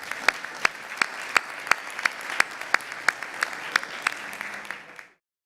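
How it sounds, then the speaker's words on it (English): An audience at a technical conference presentation applauds for about five seconds, steady clapping with a few sharp individual claps standing out, then cutting off. "let's give him a round of applause"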